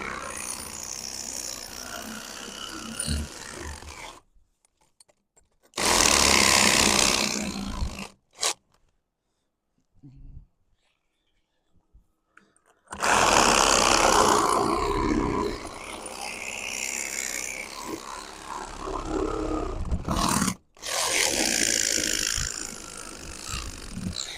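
A reciprocating saw cuts in loud, harsh buzzing bursts, stopping and restarting several times with quiet pauses between runs.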